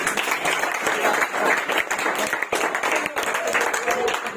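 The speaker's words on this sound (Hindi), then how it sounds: "ताली ताली बजाइए।" Audience clapping at a school talk on exam preparation, a dense steady patter of many hands filling the room, with a speaking voice over it.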